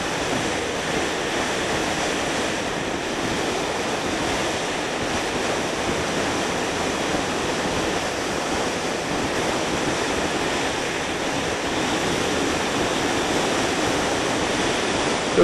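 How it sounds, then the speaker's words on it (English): Steady, broad rushing noise of strong wind buffeting a vehicle moving on Interstate 25 toward Socorro, continuous and loud for the whole stretch with no pauses. "It is a bit windy"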